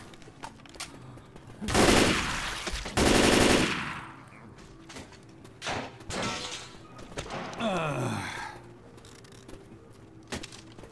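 Automatic gunfire in Left 4 Dead 2: two loud rapid bursts close together, followed by scattered quieter shots and thuds, with a low background hum.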